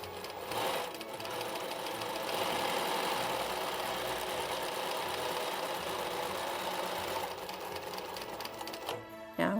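Sewing machine running steadily while stitching a custom embroidered Christmas stocking, a continuous close whirring hum for several seconds before stopping with a few clicks at the end.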